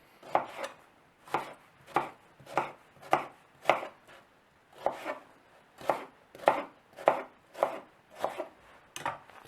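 Knife chopping onion on a cutting board, roughly fifteen crisp, evenly spaced cuts in a steady rhythm, close and clear with no talking, as vegetables are prepped for a potato mustard soup.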